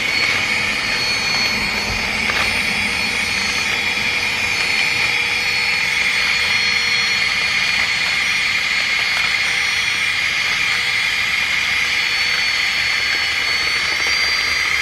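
A FlexTailGear Max Pump 2 Pro air pump runs steadily with a loud, continuous airy hiss and whine that holds even for the full stretch, close and alone with no talking.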